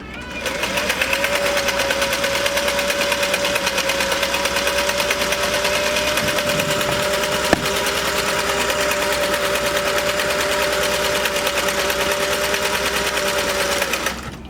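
A Singer sewing machine fitted with a top hat cam stitches steadily, giving a loud, fast, even mechanical whir with rhythmic needle clatter that runs unbroken for the whole stretch, with a faint tonal hum underneath.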